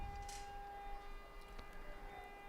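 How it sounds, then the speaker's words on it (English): A race start siren sounds at an open water finswimming world championship in Belgrade. It is a faint, steady horn-like tone held through the whole moment over a distant, noisy outdoor background. "I hope that you've heard the siren"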